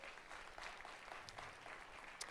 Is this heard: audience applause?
yes